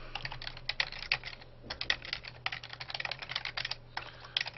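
Someone types on a computer keyboard in a quiet room, with rapid bursts of key clicks broken by brief pauses, close and fairly soft.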